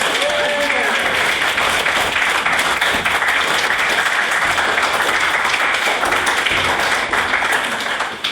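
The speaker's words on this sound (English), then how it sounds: "that round of applause was not proportional to what I did" An audience bursting into sustained applause, dense steady clapping from a crowd that continues loudly throughout and tapers slightly at the end.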